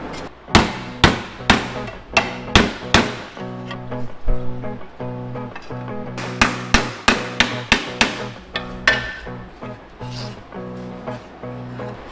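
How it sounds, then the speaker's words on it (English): Sharp metallic hammer-and-dolly blows ring against the sheet-metal bodywork of a Honda Z50 pit bike in quick irregular series, close and loud, with short pauses between bursts. "this one right here should just be easy enough to roll off and hammer and dolly work"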